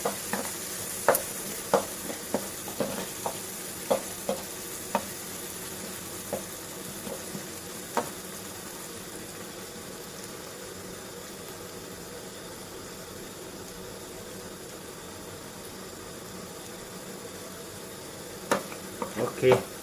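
Garlic and chilies stir-fry for a Thai chicken basil dish, giving a soft, steady sizzle under a low burner hum, with scattered light scrapes and taps of a spatula against the pan.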